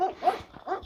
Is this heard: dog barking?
yes